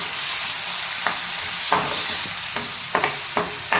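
Onion, ginger garlic paste and chopped tomato sauté in a pan for a cauliflower masala, a steady close sizzle with occasional scraping stirs of a spoon against the pan.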